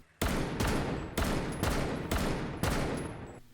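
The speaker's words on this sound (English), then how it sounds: "The 417 firing sounds like shit." A 417 DMR fires in Rainbow Six Siege, five loud evenly spaced shots with long decaying booms.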